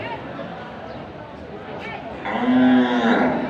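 A water buffalo (carabao) gives a single loud, drawn-out moo at a livestock gathering, heard over steady crowd chatter while someone talks nearby.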